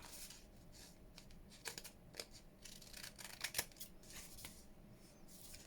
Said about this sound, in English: let's just get my big scissors